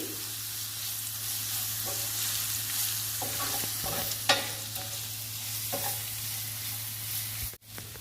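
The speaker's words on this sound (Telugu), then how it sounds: "అల్లం వెల్లుల్లి పేస్ట్, ఈ మసాలా అంతా వేయించుకోవాలి" Ginger garlic paste and masala frying in a pan for a broad bean curry. A steady, close sizzle runs throughout, with occasional scrapes and stirring taps and a steady low hum underneath.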